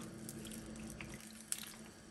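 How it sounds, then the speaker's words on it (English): Water pours into a pot of pastalaya with a soft, continuous splashing stream, faint and fairly close, ending in a small splash. "get the rest of the water in there"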